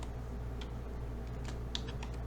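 Coordinate values typed on a computer keyboard, a few light, quick key taps, close and sparse.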